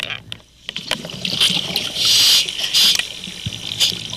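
A diver breathes underwater in murky Taal Lake, with bursts of hissing bubbles and rushing exhalations rising and falling close to the mic.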